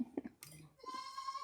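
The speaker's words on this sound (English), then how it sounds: "You got the baby goat?" A baby goat gives short, faint bleats, with a brief clatter and a sustained tonal cry in the middle, quiet and close in a farm setting.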